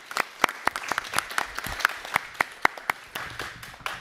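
A single person claps very rapidly and crisply at close range, sharp evenly spaced slaps over a quiet room with faint murmuring.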